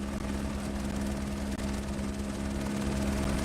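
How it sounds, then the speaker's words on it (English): Steady, loud helicopter rotor and engine drone in a flight simulator at Cape Town airport, an even whine with a constant low throb and no voices. "Now we can hear the helicopter."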